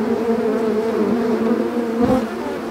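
Honeybees swarm around a log hive, making a dense, steady buzz that stays close and continuous throughout with no voices.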